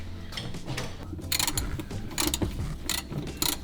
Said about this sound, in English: I'll give you a 13mm socket and ratchet, and then you can have a go on that